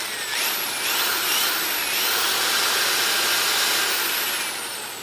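Power drill driving a screw into a wooden stretcher frame, a loud, steady motor whine that starts slow and climbs in pitch over about five seconds, close and continuous with no talking.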